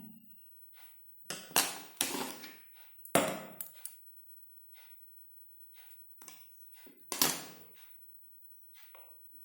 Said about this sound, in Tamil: இப்போ நான் வேறு கலர் போடுறதுனால இந்த நூலை இங்கேயே கட் பண்ணிடுறேன்.